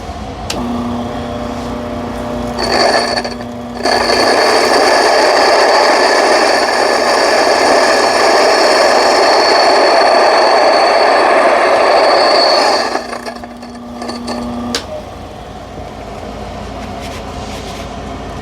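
Small electric grain mill grinding wheat a second time after a coarse first pass, a loud steady whirring drone running about ten seconds, with quieter motor sound before and after.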